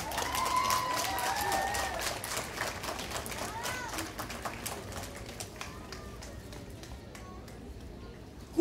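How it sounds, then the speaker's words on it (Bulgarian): An audience applauds at a municipal awards ceremony honouring coaches in Samokov, a dense clatter of many hands, strongest at first and gradually thinning, with a voice speaking over it at moments. "аплодисменти"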